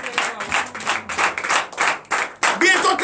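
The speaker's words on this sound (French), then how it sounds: "Donnez l'acclamation au Seigneur Jésus." Church congregation clapping in acclamation, loud rhythmic bursts of hands in pulses close to the listener, with voices shouting and cheering over the claps.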